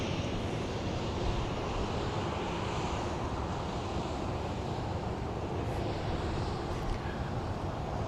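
A Boeing 737 MAX 8 arriving from New Orleans lands on runway 13 left, a steady broadband roar of engine and rushing air held at an even level, with wind noise on the microphone.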